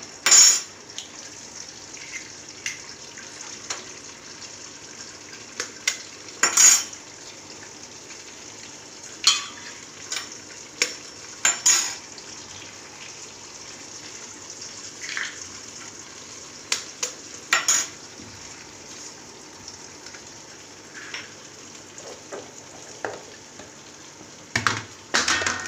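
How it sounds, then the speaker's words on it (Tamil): Seven eggs scrambling in a pan for egg fried rice, a faint steady sizzle with sparse scraping and clinks of a spatula against the pan, a few louder knocks scattered through, no talk. "அதற்கு நான் இப்போ ஏழு முட்டையை இதில் நான் ஊற்றுறேன்."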